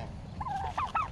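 Backyard fowl at feeding time give a short burst of warbling, gobble-like calls, close and moderately loud over faint background noise.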